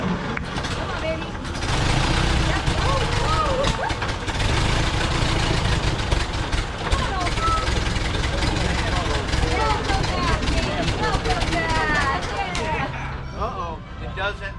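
A Ford Model A engine cranks and runs, a loud steady mechanical churn under frequent close voices, the engine note fading out at the very end.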